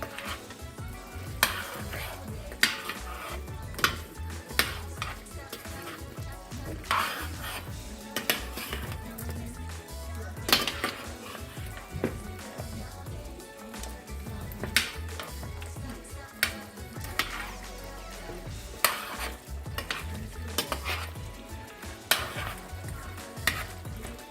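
Oxtail sizzles in its own juices in a pot while being stirred and flipped for Jamaican-style oxtail, with a spoon clanking against the pot in irregular knocks over a soft, steady frying hiss.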